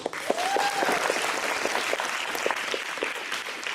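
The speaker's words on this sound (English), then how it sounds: "So we'll give them a round of applause." An audience at an elementary school event claps for school staff, dense steady applause from a roomful of people that holds for several seconds before easing slightly.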